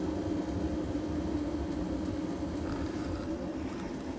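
The Big Max heater fires up with a steady, broadband roaring rush, a constant close hum and whoosh that holds evenly throughout with no talking.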